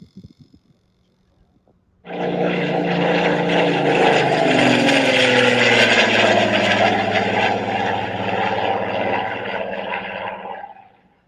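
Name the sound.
RC model airplane flying in the wind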